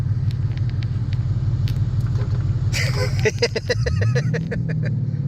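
A 2012 Ford Mustang Boss 302 with K&N filter and JLT catch can rumbles steadily at close range during a test drive, then its engine note rises and strengthens with a rev, with some interior clatter.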